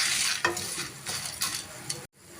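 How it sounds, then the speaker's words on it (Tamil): Tamarind and dal fry in a pan with cumin, giving a close sizzle broken by repeated scraping stirs every half second or so, then a sudden cutoff near the end. "புளி சேர்த்துட்டு ஒரு 20 செகண்ட் ஃப்ரை பண்ணிக்கலாங்க."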